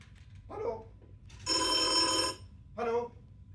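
An old landline telephone bell rings in bursts, two short rings then a long loud ring and another short one, with a brief voice sound early on.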